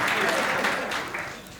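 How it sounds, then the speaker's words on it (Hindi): An audience at a Hindi poetry gathering claps in a brief, fairly dense burst of applause that fades out after a moment, with some talk mixed in. "चलिए साहब एक बार पूरा सदन मुझे ताली बजा के आशीर्वाद दे"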